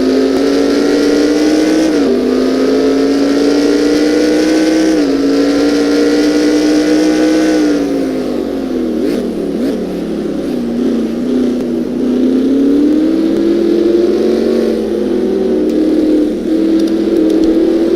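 An onboard Formula 1 race car engine at the Dutch Grand Prix in a 2017 F1 series round, a loud, close, high-pitched whine that climbs steadily through the revs, dropping sharply at each gear change and easing through corners.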